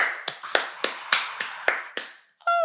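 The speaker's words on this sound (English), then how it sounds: "Clap it up for Irv Gotti, everybody. Clap it up. Clap it up." Hands clap on their own in a steady rhythm of about eight sharp claps spaced evenly, close and dry, for Irv Gotti, ending in a brief tonal chime.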